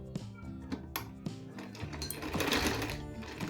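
A sewing machine stitching the lining of a gathered lehenga, a steady close mechanical whirr with rhythmic needle clatter, speeding up into a busier run toward the end.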